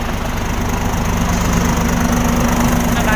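An Isuzu 6WF1 truck diesel engine runs after a tune-up, idling with a loud, even, continuous rumble close by, steady throughout with no voices.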